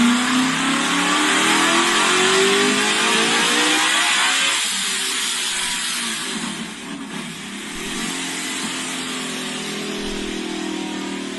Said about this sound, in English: So he ended up going to the dyno today with a centrifugal supercharged Mustang